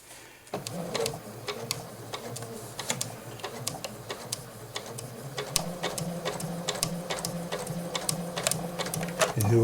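A Janome 8077 sewing machine stitches through a blanket, with a fast, even run of needle clatter punctuated by sharp mechanical ticks. It sounds close and steady, with no voices.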